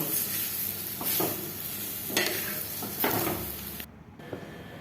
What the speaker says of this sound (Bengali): কড়াইয়ের মধ্যে একটু লেড়ে নিচ্ছি তেল দিয়ে দোকাটা ভেজে নিচ্ছি